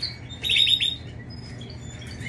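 Canaries kept indoors chirp in a quick bright cluster of tweets, then fainter scattered calls over a low steady hum, with no talk.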